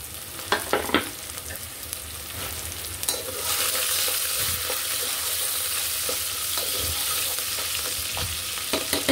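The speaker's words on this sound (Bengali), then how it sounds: "এগুলো হালকা বাদামি ভাজা হয়ে গিয়েছে।" Dried prawn paste fries in a pan for a taro and prawn dish, a steady hiss of sizzling oil that swells after a few seconds, with spoon scrapes and stirring clicks throughout and no talking.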